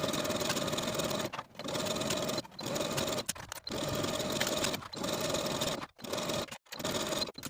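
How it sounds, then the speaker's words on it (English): Close up, a sewing machine stitches a jersey wrap dress facing onto the bodice along a 5/8 inch seam. Runs of fast, steady whirring break off into short pauses, with no talking. "I'm going to sew it in place with a 5/8 inch seam allowance."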